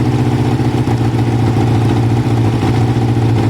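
A Kawasaki ZL600 motorcycle engine idles steadily and close by, a loud, even, throbbing hum with no talking.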